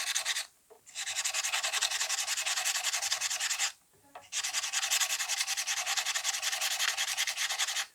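Frets on a Fender Squier Telecaster are rubbed and polished by hand, a steady, close, scratchy rubbing that runs continuously with two brief pauses.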